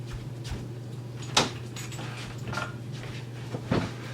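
An indoor door is shut in a home bedroom, giving a single short knock-like thud near the middle, with a softer bump later, over a steady low hum and no talk.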